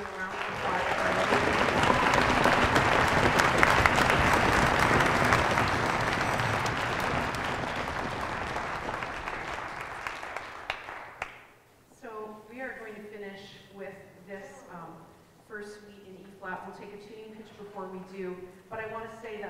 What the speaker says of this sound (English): So can you please join me in giving a round of applause?